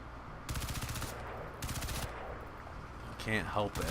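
Short bursts of rapid automatic gunfire crack out in the game Crysis 2 as shots are aimed at a statue, two sustained volleys followed by a brief clatter of impacts and debris.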